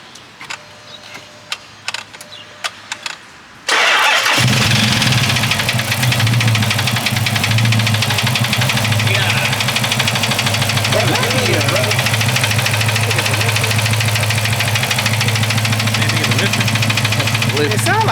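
After a few seconds of quiet clicks, a V8 car engine fires up and runs steadily, with a loud, rough idle carrying a persistent ticking knock like a bad lifter. People talk over it.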